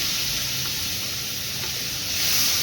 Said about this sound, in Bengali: ফোড়নটা কয়েক সেকেন্ড একটু ভাজা ভাজা করে নিয়ে এর মধ্যে দিয়ে দেবো পেঁয়াজ কুচি।